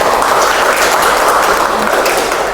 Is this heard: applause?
yes